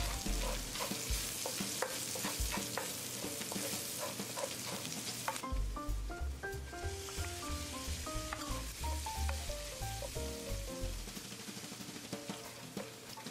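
Ingredients and seasonings stir-fry in rendered fat for Hakka rice cake zongzi, with constant sizzling and repeated scraping stirs, then more scraping strokes in the second half, without any voices.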